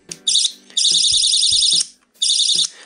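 A fishing bite alarm beeps loudly in three shrill electronic bursts, a short one, a long sustained one and another short one, with a brief gap of quiet between them and no talk.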